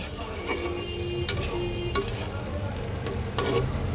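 Spiced stinging catfish curry with potato, cauliflower and peas being sautéd and stirred in a pan after a splash of water, giving a steady close sizzle with scraping stirring strokes throughout.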